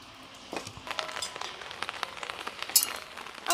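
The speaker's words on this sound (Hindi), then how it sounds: "और ऊपर से बारिश हो रही है" Rain falls outdoors around a pine tree, scattered drops pattering and ticking on nearby surfaces at a quiet level, growing slightly denser after the first half second, with a few sharper clinks.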